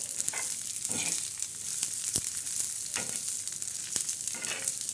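Garlic and coconut masala roasting in a pan for stuffed bitter gourd, a close crackling sizzle broken by repeated scraping stirs and one sharp utensil tap, with no speech.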